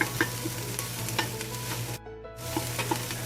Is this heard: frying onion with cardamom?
yes